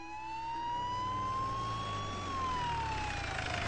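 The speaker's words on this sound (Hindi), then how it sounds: "पुलिस वैन का सायरन सुनकर मीडिया को होश आया।" A police van siren wails steadily, its pitch rising slowly then falling, loud and continuous over a low engine rumble.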